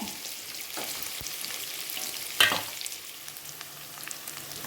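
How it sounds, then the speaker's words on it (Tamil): Onions sautéing in a pan for a spicy kuruma, giving a steady close sizzle with light stirring scrapes and a brief louder clatter midway. "இது வந்து நல்லா வதங்கி வரணும் வெங்காயம்."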